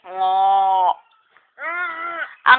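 Goat bleating in two drawn-out, wavering calls separated by a short pause, close and loud, with a brief sharp sound cutting in at the end.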